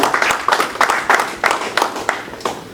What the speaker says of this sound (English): shameless round of applause for all of you